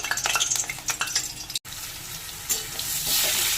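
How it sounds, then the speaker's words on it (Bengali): Potatoes frying in mustard oil in a wok give a steady, close sizzle. Scraping and stirring noises break in over the first half, and the hiss grows louder and fuller toward the end. "গরম হয়ে গেছে, আলুগুলোকে দিয়ে একটু ভেজে নেব।"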